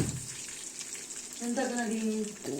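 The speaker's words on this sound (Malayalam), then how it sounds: "ഞാൻ ഇതിലേക്ക് വെളുത്തുള്ളിയും കൂടി ഇടുന്നുണ്ട്" Garlic drops into hot oil for a taro and tomato curry, a steady close sizzle of frying that briefly grows louder, with a person talking over it.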